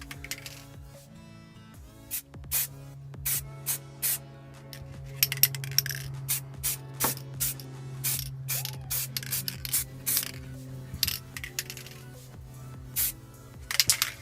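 Short bursts of gloss black spray paint hiss onto a Honda Civic wiper arm in a steady series of close hisses, over a constant low hum.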